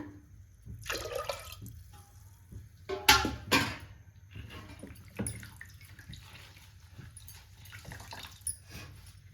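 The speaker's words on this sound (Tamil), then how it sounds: "ஒரு 4 டம்ளர் தண்ணி ஊற்றிக்கலாங்க." Water is poured from a tumbler into a clay pot set on a stove for steaming idli. Quiet, intermittent splashes and trickles come in short bursts, with a couple of louder pours near the middle and soft drips between them.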